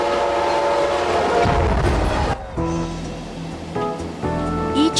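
A bi-level Metrolink commuter train rumbles past loudly with rolling wheel noise, then its horn sounds in a few sustained, tonal blasts near the end.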